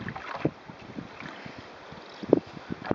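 Kayak paddle sailing at a relaxed pace with wind, heard as steady wind and water noise with soft paddle strokes and occasional splashes and knocks close by, without voices.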